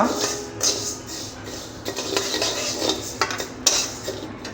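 Rice dry-fried in a pan at night, a metal utensil scraping and clinking against the pan in irregular bursts of stirring, close and moderately loud, with a faint sizzle beneath.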